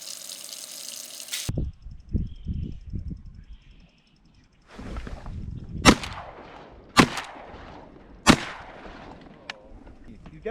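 Shotgun blasts ring out during public-land duck hunting from a kayak on a slough: three sharp, loud reports spaced about a second apart, preceded by splashing water and paddle sounds, with muffled talk in between.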